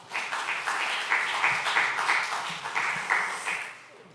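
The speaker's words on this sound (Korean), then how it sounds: "목사님 나오셔서 광고하실 때 큰 박수 부탁드립니다" Audience clapping for the pastor at a church young adults' Sunday service, a moderate, steady round of applause with uneven claps that fades toward the close.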